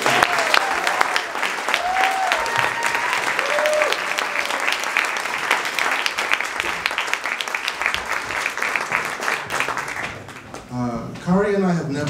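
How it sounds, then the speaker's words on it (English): Dense, sustained audience applause at a talk on Black migration, with a few whoops rising above the clapping before it fades and a voice starts speaking near the end. "Another round of applause for Khari."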